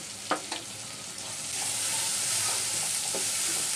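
Chili powder and turmeric are tipped into a frying pan of taro stems and stirred, giving a couple of sharp scrapes and then a steady close sizzle with a few more utensil taps, with no talk.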